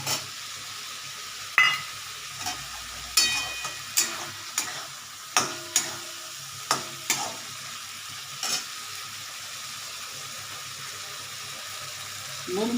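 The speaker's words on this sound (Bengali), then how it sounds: "এবারে পেঁয়াজটা আমি দিয়ে দিচ্ছি আস্তে আস্তে থাকবে" Onions are added and stirred into frying masala with potatoes for a spicy aar fish curry. Close, regular spatula scrapes against the pan repeat roughly every second over a continuous low sizzle.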